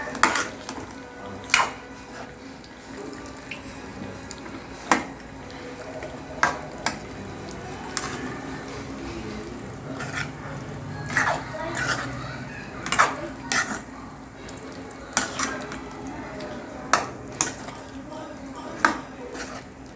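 Meat pieces being stirred into gravy in a pan, with a steady soft sizzle under repeated sharp clinks of a spoon against the pan over twenty seconds, and a voice talking faintly at times.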